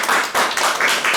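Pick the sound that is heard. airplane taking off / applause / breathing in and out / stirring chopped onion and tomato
applause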